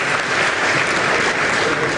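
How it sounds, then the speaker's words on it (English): Steady, dense applause from a conference audience fills the whole stretch, loud and close with no break, a few voices mixed faintly into the clapping. "Round of applause to the PS for sharing and responding to some of our concerns."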